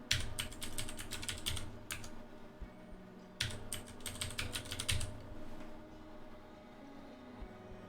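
Keystrokes on a computer keyboard while entering a name, computer name, username and password during an Ubuntu 20.04 install: two quick bursts of clicky typing separated by pauses, close and clear over a low steady room hum.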